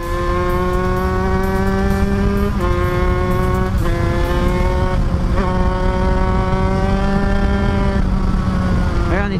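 An Aprilia RS4 motorcycle fitted with an 80 cc kit accelerates hard, its two-stroke engine note climbing in pitch through several gear changes, loud and close throughout.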